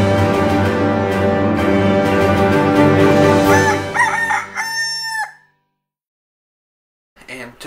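A rooster crows loud and close in one long drawn-out call that rises and then breaks off into silence, followed by a brief rustle at the end.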